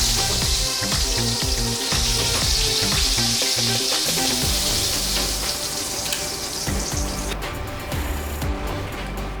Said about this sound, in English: let's make the gravy. We got it going up to a boil here.